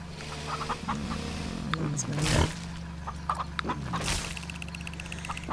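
Chickens cluck in the farming video game Farm Together 2, several short clucks and squawks scattered over a low background hum, with a couple of louder bursts, while someone talks over them.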